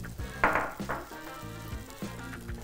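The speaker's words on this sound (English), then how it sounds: "I'm going to start with 3 tablespoons of butter and melt it in a medium pot over medium heat" Three tablespoons of butter melting over medium heat in a medium pot, a gentle continuous sizzle with soft bubbling pops and an occasional utensil tap.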